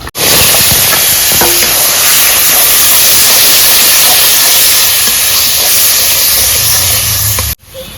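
A little oil with a bay leaf sizzles loudly in a wok, a dense, steady hiss running close and unbroken for about seven seconds before cutting off sharply.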